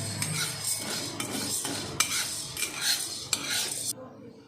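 Sago pearls dry-roasting in a pan for chakli flour, stirred with a metal spoon that scrapes and rattles in repeated sweeps over a soft sizzling hiss, close and fairly loud, ending abruptly.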